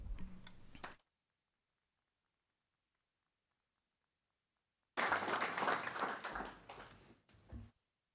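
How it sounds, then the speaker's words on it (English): Audience applause at a school district board of trustees meeting comes in two bursts, a short one that cuts off, then after a silence a fuller round of clapping lasting a few seconds before stopping. "Can we get another round of applause for Cameron?"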